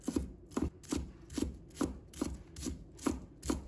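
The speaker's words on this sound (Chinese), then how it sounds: "把葱白切成小粒。" A knife chops scallion whites into small pieces on a cutting board, about nine crisp, evenly spaced knocks close by, with nothing else heard.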